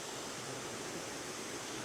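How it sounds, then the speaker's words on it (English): Steady, full-band rush of a waterfall tumbling from an upper tier into a second fall below, heard close and unbroken with no voices. "So I got this top waterfall here, obviously leading down into the second waterfall"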